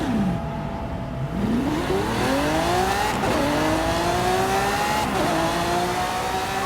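A Lamborghini Centenario in a racing video game revs hard and loud, its engine pitch rising through several gear changes with brief dips between shifts, close and continuous with no talking.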